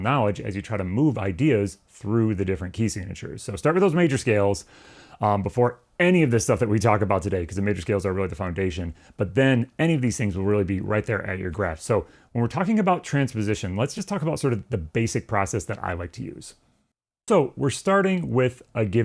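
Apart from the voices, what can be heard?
No everyday noises stand out.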